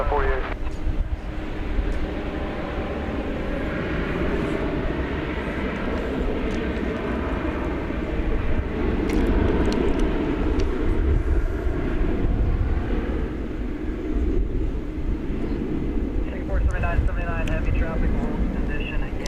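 An American Airlines jet landing on runway 18 right at DFW airport makes a steady, broad engine roar throughout, heard under clipped air-traffic-control radio talk.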